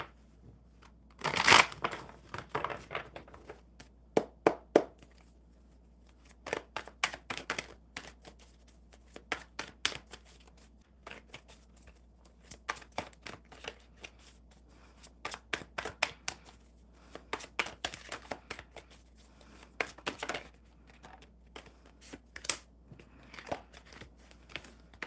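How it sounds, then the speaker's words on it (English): Cards being shuffled by hand during a casual live chat, with repeated crisp riffle bursts and soft rattling spread across the clip, close and fairly loud, with no voices. "One more good shuffle."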